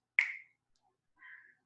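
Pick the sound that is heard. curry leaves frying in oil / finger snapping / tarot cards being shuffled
finger snapping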